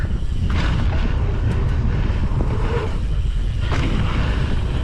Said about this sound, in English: Horrible side wind.